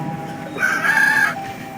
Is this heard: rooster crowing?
yes